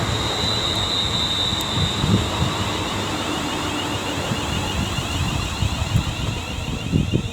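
An electric passenger train on the West Coast Main Line at Marston Green rolls steadily past nearby with continuous rumbling wheels and a high metallic whine, wind buffeting the microphone throughout.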